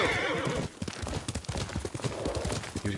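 A horse in the video game Ghost of Tsushima neighs loudly and close by, its whinny mixed with clip-clop hoofbeats over a dense, busy game soundscape.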